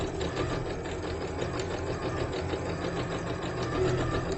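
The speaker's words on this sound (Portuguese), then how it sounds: "Seguro aqui a linha e venho costurando" A sewing machine stitches a paper foundation quilt block, running at a steady, even whirring hum with rapid needle pulses, close and continuous with no voices.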